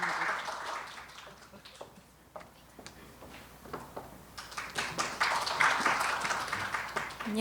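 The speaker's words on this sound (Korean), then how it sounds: "박수로 맞이해 주시기 바랍니다." A university festival audience claps to welcome the host institute's director to the podium. The applause is soft and diffuse, dipping midway and then swelling louder toward the end, with faint room noise underneath.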